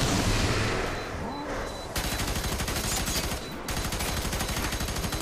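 Gunfire in F.E.A.R. 3, opening with a muffled stretch of low movement and then breaking into rapid, continuous automatic shooting that stops briefly and resumes, loud and close with no voices.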